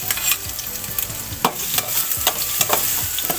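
Garlic frying in hot oil in a pan for sinigang with pork and chicken, a steady sizzle with scattered clicks and scrapes of stirring close by, no talk.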